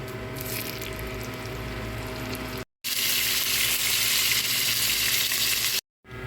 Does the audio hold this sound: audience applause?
no